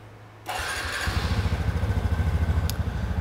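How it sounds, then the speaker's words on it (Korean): A car engine is started for a DIY engine-oil change, cranking briefly and catching, then settling into a loud, steady, rhythmically pulsing idle close by. "시동 한번 걸어볼게요."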